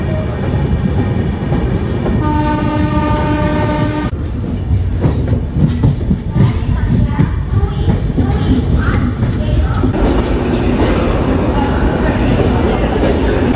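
The Jagannath Express, an LHB-coach passenger train, rumbles loudly at Cuttack station with continuous rolling wheel noise, rhythmic clatter and brief tonal squeals and hums from the carriages.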